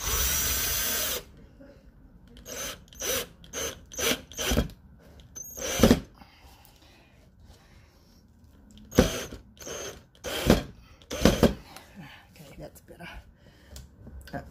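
A drill driving a screw into a pool noodle holder for an arched fence, a series of short whirring bursts with pauses between them, close and moderately loud.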